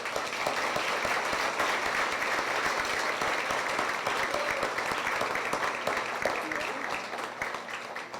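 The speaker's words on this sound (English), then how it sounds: "Give them a round of applause" Sustained applause from a crowd at a school board meeting held at an elementary school, steady and dense throughout, with a few voices mixed in underneath.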